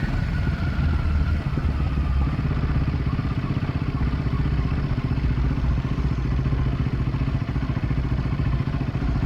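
A Royal Enfield Himalayan 450 motorcycle crawls at low speed in second gear, its engine giving a steady, close, rapid thumping idle-like rumble with no change in pace throughout.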